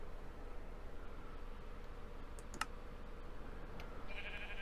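A sheep in Minecraft gives one faint bleat over a steady hum, with soft keyboard clicks scattered through it.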